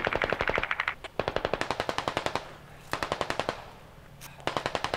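Bursts of automatic gunfire from a Squad military squad shooter game, rapid evenly spaced shots in several strings of about a second each with short pauses between, loud and close, no talking.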